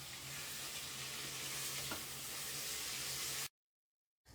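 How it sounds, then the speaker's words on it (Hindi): Chicken frying in a pan with garlic-ginger paste, a faint steady sizzle with one light stirring scrape, then a sudden cut to silence before the sizzle briefly returns. "अब हम 10 मिनट चिकन को अच्छे से फ्राई कर लेंगे।"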